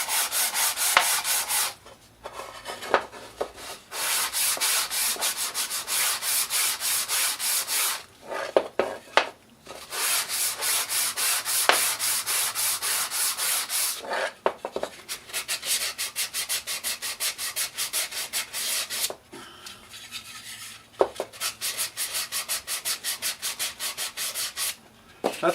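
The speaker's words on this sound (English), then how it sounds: "That's about all the sanding I do to it." Rhythmic sandpaper rubbing on wood, long steady strokes repeated in bursts with short pauses between, close and fairly loud.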